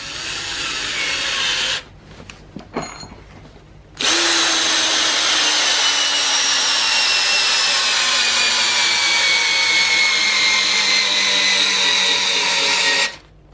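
Ryobi R18PD3 cordless drill (50 Nm torque) driving a 20 cm long size-8 screw, a brief start, then a long loud whirring run with falling motor pitch as it labours, stopping abruptly.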